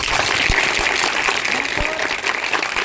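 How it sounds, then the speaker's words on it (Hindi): A crowd claps loudly at a groundbreaking ceremony for a temple, the applause dense and steady, with a few sharp louder claps standing out and a voice faintly audible beneath. "जोरदार ताली बजाओ"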